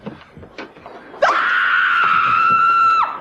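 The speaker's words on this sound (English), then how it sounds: "Scream and keep screaming" A person lets out one long, loud, sustained scream that cuts off abruptly, preceded by a few faint soft noises.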